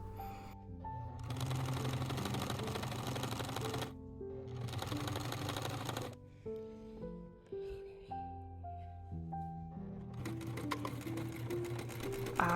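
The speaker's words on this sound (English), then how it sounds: "I stitched the sleeve seam down" A sewing machine stitching a small puffy sleeve seam on a dress, heard in several bursts of rapid mechanical whirring separated by short pauses, close and moderately quiet over background music.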